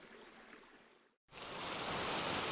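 Heavy rain pours steadily in a forest, a cartoon-style sound effect: a dense hiss that drops out for a brief moment, then returns louder and fuller.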